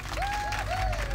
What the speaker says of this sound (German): Applaus, Applaus, Applaus!